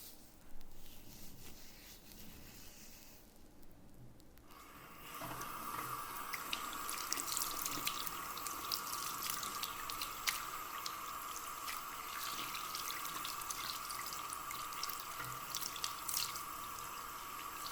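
Tap water runs steadily into a sink for a rinse, starting after a few seconds of quieter handling noises and then holding a constant close hiss with small splashes and drips.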